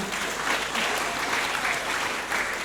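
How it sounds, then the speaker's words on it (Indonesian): A church congregation clapping at a Christmas Day service, a steady dense patter of many hands lasting throughout, fairly close and continuous with no distinct beats. "Mari kita tepuk tangan."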